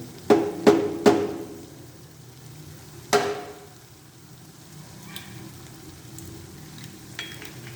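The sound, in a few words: eggs cracked one by one into a sizzling pan for shakshuka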